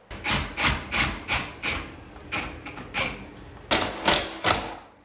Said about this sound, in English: let's grab the screws, my screw gun, fasten this thing in place